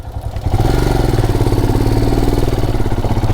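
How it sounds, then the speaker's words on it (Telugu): A motorcycle engine idles close by in a rural cave area, a steady loud low throb with a regular pulsing beat, starting slightly softer then holding constant. "తీసుకుపోదాం బైక్ లోపలికి."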